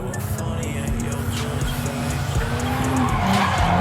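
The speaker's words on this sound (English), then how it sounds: "I'm gonna watch Joey slide." A car engine drones steadily while tires skid and squeal in a long drift at Apple Valley Speedway during a drift event, the noise holding loud and continuous throughout.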